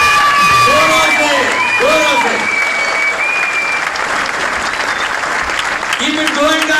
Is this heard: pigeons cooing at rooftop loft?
no